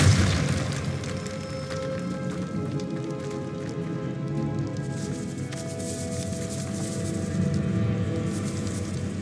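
A Depulso spell blast goes off in the video game Hogwarts Legacy, a loud booming burst at the start with a rumbling, crackling tail that stays dense and steady, with no voices present.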